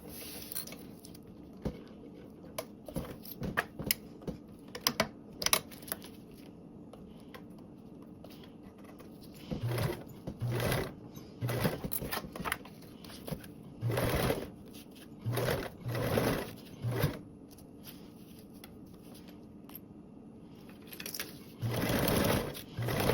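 A sewing machine top stitches a seam, running in short rapid bursts separated by pauses, with small taps and handling noises between the runs.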